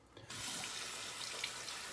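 Running tap water, steady and close, pours while a shaving brush works lather for a shave with Barrister & Mann Hallows 31 soap; the flow starts abruptly after a brief quiet moment and continues evenly.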